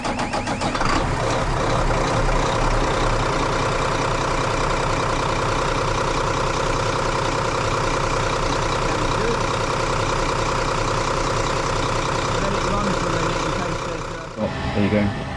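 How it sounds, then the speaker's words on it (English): A boat's diesel engine runs steadily after its fuel system has been bled of air, a loud continuous idle with a dense, even rumble for about fourteen seconds before the sound drops away near the end. "So here we go, turn it over and see what happens."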